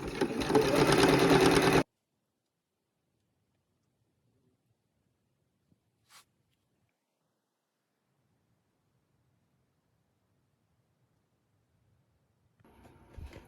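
A sewing machine stitches gloves in a loud, steady burst of about two seconds near the start, then the room goes nearly silent apart from a brief tap before quiet rustling returns at the end.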